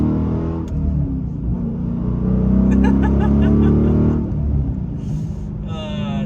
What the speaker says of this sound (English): being a manual, it's tough not to want to get this up in the rev range